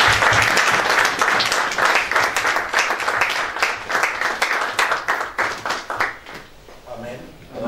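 A church congregation applauds to welcome the pastor, with dense, steady clapping that fades gradually toward the end and voices mixed in.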